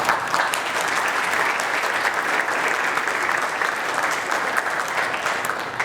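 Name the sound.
audience applause at a keynote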